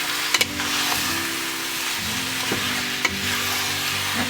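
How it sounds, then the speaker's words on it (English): Marinated chicken sautés in a pan with onion and turmeric, a steady sizzle and hiss broken by a few sharp clinks and scrapes of stirring, close up with no one talking. "we'll saute it with everything for about 3 minutes"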